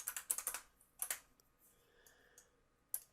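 Faint, nearby keyboard typing while a value is entered during 3D modelling work, a short burst of rapid clicks, then a couple of isolated taps with quiet gaps between, no voices present.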